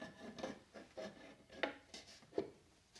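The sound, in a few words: floating shelf sliding down onto screws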